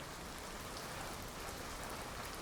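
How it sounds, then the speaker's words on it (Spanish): Steady rain sound played as a bedtime ritual at home, a dense, even hiss of drops on a surface with no break, fairly soft and continuous with no voices. "Al acostarse, pone sonidos de lluvia."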